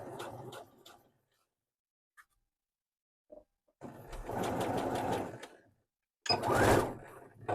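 Short bursts of a sewing machine stitch along the sides of a pocket on a garment, separated by silent pauses, with a louder final burst near the end.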